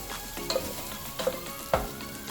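Boiled green peas go into spaghetti vegetables frying in a pan, adding a soft steady sizzle with a few light clinks and scrapes of a spoon, fairly quiet and close.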